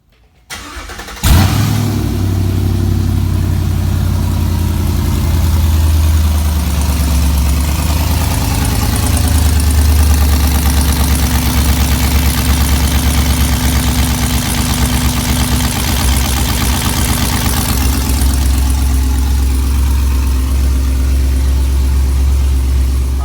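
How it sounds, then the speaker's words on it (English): A full-bolt-on Chevrolet Camaro SS cold-starts with a sudden loud catch after a moment of quiet, then settles into a deep, steady, rumbling idle that continues throughout. "let's go ahead and get y'all a cold start"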